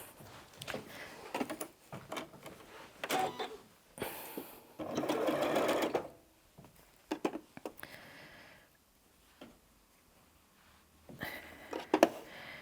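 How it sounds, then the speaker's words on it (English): A sewing machine stitches quilt blocks for an Irish Chain quilt in several short, close bursts of rapid whirring, with quiet pauses and small handling clicks between runs. "take those bits and let's get sewing"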